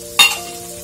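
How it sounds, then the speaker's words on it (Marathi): Prawns hit a hot pan with a brief loud sizzling burst that quickly settles into a quieter, steady fry, with faint stirring noise underneath. "आता मी इकडे कोळंबी ठेवली आहे फ्राय करण्यासाठी"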